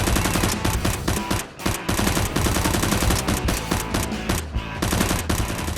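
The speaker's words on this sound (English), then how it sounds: "The soldier wasn't afraid and returned fire." Gunfire in a Nerf fight sounds like loud, nearly continuous bursts of rapid automatic shots, rattling without pause over a dense, steady backdrop for several seconds, with no voices.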